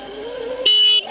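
A horn blares in one steady honk on a Thunderwasp XR16 in sport mode, loud and close, between stretches of engine and road noise.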